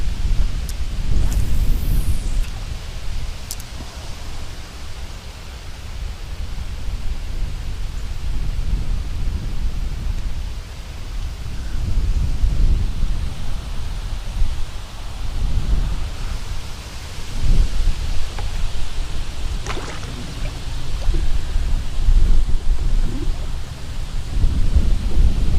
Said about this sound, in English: The wind has really picked up here.